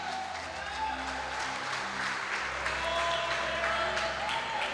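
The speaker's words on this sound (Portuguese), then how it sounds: "E aplaudam a Ele, glorifique, exalta, enaltece o nome dEle" A church congregation claps and praises during a service, steady applause mixed with scattered voices and a low sustained instrumental tone beneath it.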